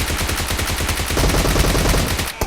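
Automatic weapon fire in PUBG Mobile, a loud, fast stream of shots at a steady rapid rhythm for over two seconds that cuts off abruptly at the end.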